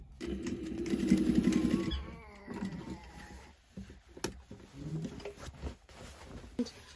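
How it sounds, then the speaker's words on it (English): A domestic sewing machine stitches around the edge of a fabric tote bag, a quiet mechanical patter that swells in the first couple of seconds, then breaks into shorter bursts with small clicks in between. "I'm just going to sew it all the way around"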